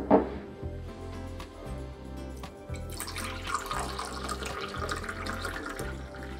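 Mineral blend B, a clear liquid, poured straight into a Tower Garden vertical-farm reservoir, giving a steady splashing pour that swells midway and continues to the end, fairly close and without talk.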